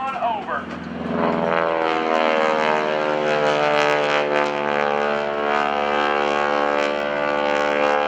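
Airshow plane with a 600-horsepower Pratt & Whitney 9-cylinder radial engine at NAS Oceana, a loud droning propeller roar that swells in as it passes close, with an announcer's voice over it.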